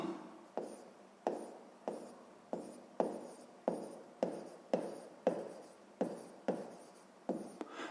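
A grade 6 maths exercise being written out by hand, a steady run of a dozen or so short pen strokes scratching against paper, close up and soft, with no one talking.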